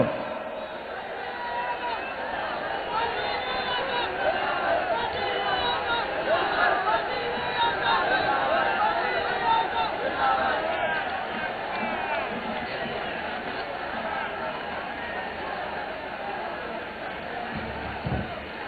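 A large crowd at a Pakistan People's Party political rally in Hyderabad roars in a dense, continuous wash of voices and chanting, loud and unbroken from start to finish.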